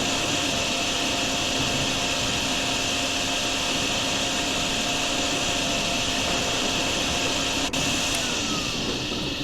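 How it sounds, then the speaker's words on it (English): Vacuum cleaner in the video game DrainSim runs as a steady, loud, continuous whine and roar across the whole stretch, alone with no talk. "Use the vacuum, right?"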